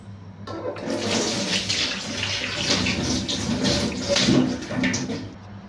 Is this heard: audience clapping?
no